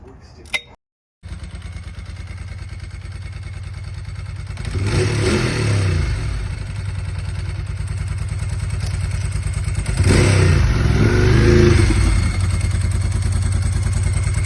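A Ducati 748 Desmoquattro motorcycle engine with a freshly replaced dry clutch runs steadily and close by, its low rumble swelling twice as the throttle is blipped, with a faint dry-clutch clatter beneath.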